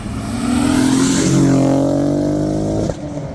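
A car with a 2.7 engine accelerates hard at a weekly car meet, its engine note climbing steadily and loud for nearly three seconds before cutting off abruptly, with some background noise.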